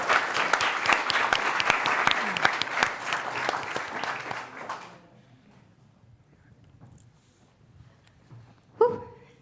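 A conference audience at a startup demo day applauds steadily for about five seconds, then the clapping stops abruptly, leaving near quiet with a faint knock or bump near the end.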